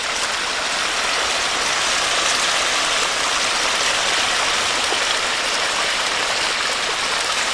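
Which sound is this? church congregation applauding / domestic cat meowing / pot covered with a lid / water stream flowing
water stream flowing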